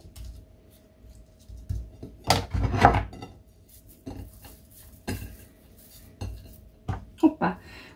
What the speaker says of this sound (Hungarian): Hoppá, leraktam úgy a kést